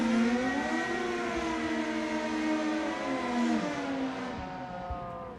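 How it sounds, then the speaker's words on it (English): A 2010 Suzuki doing a smoky burnout at a drag race, a loud sustained engine roar with rising and falling revving tones that hold steady for several seconds before easing slightly. "Couple of beautiful smoky burnouts right there."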